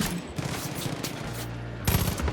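Automatic gunfire in the video game Far Cry 5 as a full magazine is emptied, a rapid dense burst of shots that fades briefly and resumes, moderately loud with no talk.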